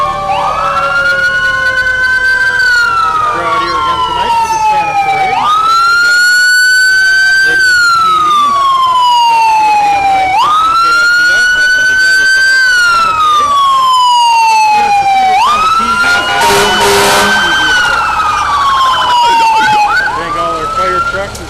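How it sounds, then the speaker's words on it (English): A fire truck siren at an evening Santa parade wails loudly and close in long rising and falling sweeps, repeating about every five seconds, with crowd and street noise underneath. "A big fire truck there with members of the fire department."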